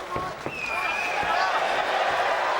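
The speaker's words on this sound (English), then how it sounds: "Boos, jeers and slow hand claps begin again." Boxing arena crowd at a Commonwealth title fight keeps up a continuous roar of booing and jeers, with a few sharp knocks near the start and a commentator talking over it.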